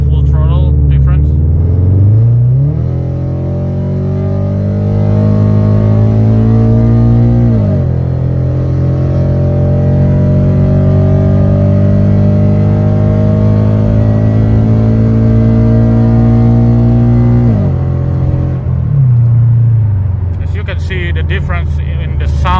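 A 2013 Toyota FT86 automatic with a Motec M150 plug-in harness accelerates at full throttle, engine note climbing steadily in pitch, then dropping sharply at each quick upshift, loud and close for over twenty seconds with no talking.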